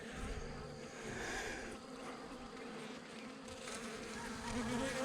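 Honeybees drone steadily at an open hive during an inspection, a dense close buzz with no speech.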